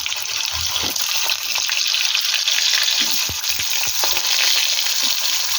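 Cut potatoes sizzle loudly in hot oil with five-spice seeds, producing a dense, steady crackling hiss that stays close and continuous with no talking.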